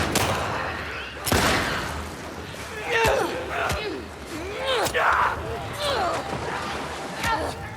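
Gunfire aimed at a clicker in The Last of Us Part II, with several sharp, loud shots over a noisy scene of creature shrieks and shouting voices.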